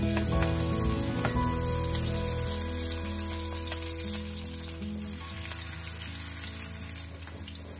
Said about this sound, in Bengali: এবার একে একে খুবই সাবধানে মাছের ডিমগুলো ভেজে নেব।